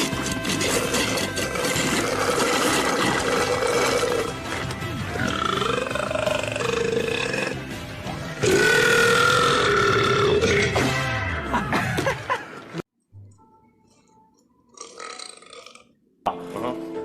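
Male burps from TV shows, loud and drawn-out, several in a row with croaky, roaring tones, followed by a near-silent pause and a few fainter bursts at the end.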